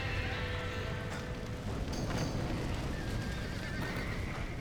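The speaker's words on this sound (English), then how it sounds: "Somebody get them horses out!" Horses neigh and whinny amid clip-clopping hooves in the Red Dead Redemption video game, a dense, continuous stable commotion with a steady roar beneath it.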